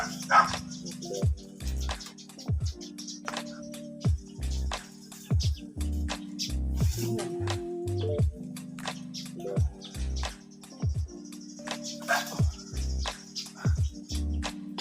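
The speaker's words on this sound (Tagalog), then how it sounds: "Nagtahol. Mga alagang aso." Pet dogs bark repeatedly, loud and close, in uneven bursts of sharp barks through the whole stretch, with faint birdsong and small clatters behind them.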